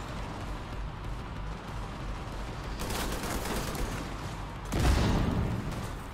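Shooting in a Halo-style first-person game on Legendary mode, as a sustained rumbling burst of gunfire that swells near the end, with no talk over it.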